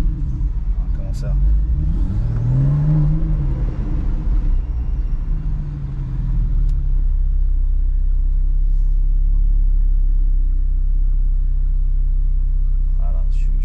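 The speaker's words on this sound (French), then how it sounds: "c'est parti avec l'échappement sport ouvert" A 2017 Porsche 911 Targa 4S biturbo with 420 hp and its sport exhaust open revs up in a rising, falling howl, then settles into a deep, steady engine drone heard from inside the cabin.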